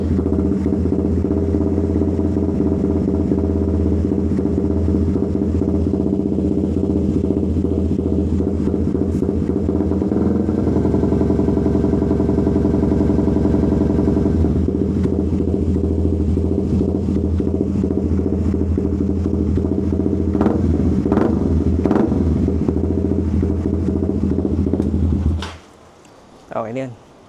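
A Suzuki GSX 150 motorcycle with a Proliner TR1-R Neo aftermarket exhaust idles with a deep, steady rumble and revs throughout, loud and close, before cutting off near the end with a brief restart.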